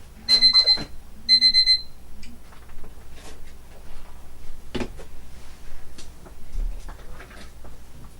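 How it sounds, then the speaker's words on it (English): An alarm goes off indoors during a craft painting session: two short bursts of shrill electronic beeping, then quieter handling sounds and small knocks. "Of course my alarm goes off."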